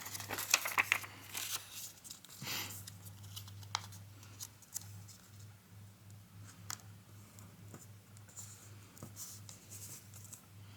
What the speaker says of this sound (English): we're just going to fold along the crease line back down like this